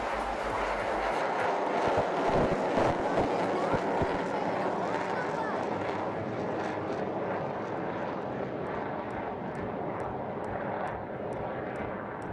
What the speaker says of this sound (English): Inverts the aircraft and will bring her back through the vertical.